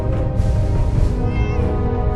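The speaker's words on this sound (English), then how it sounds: "Is there a cat" A cat meows in a video game set during a meeting, its cries blending into a dense, steady bed of game music and ambience that runs loud throughout.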